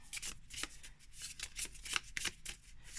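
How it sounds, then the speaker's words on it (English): Small tarot cards being shuffled by hand, a quick run of crisp riffling flutters and soft slaps close to the microphone, with no talking. "you have to be careful how you do your shuffling, or else you're gonna give a bend to your cards"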